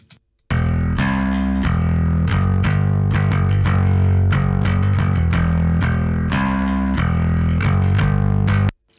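An electric bass plays a punchy riff of plucked notes with a steady groove, loud and close, with no talking, heard with and without a compressor.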